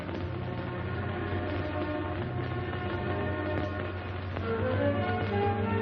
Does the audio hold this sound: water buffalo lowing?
no